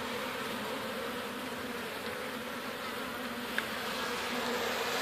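A dense, steady drone of many honey bees buzzing around a bird house hive at close range, continuous and unbroken, with no talking.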